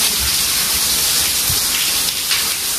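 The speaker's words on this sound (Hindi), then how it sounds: "यहाँ से जो गीजर का पाइप है ना ये फट गया है, तो इस वजह से यहाँ पानी फेंक रहा था।" Water spraying hard from a burst water heater (geyser) pipe in a home, a loud steady broadband hiss with no talk.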